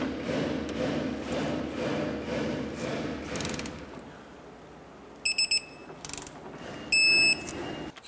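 Ratchet work on a lower control arm bolt of a 2008-2012 Honda Accord front suspension, a dense run of near mechanical clicking with low rumble, then quiet broken by a few short, sharp high beeping tones.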